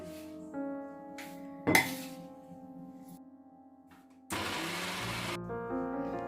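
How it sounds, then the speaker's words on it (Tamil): A kitchen grinder blends roasted grated coconut in short bursts: a sharp clatter, a steady motor whine that fades, then a loud, dense grinding roar that settles into a humming drone, close and with no talk. "இப்ப வறுத்து வச்சிருக்கிற தேங்காய் பூவையும் கொஞ்சம் கொஞ்சமா போட்டு அடிச்சு எடுக்க போறேன்"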